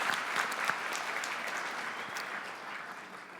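A crowd at a Dancing With the Stars charity show for Hospice Cape Breton applauds, steady clapping at moderate level, with a few sharper claps standing out near the start before it gently eases off.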